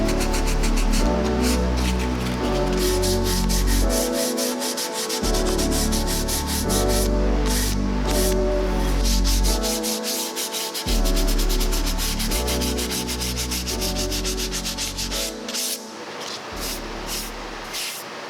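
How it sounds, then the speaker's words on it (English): 180-grit sandpaper breaks the hard edges of a wooden step stool and smooths its miter joints. Steady, close rasping strokes repeat in a rhythmic back-and-forth pattern with brief pauses between passes. "Using 180 grit sandpaper, I broke all the hard edges on the piece and cleaned up any discrepancies in the miter joints."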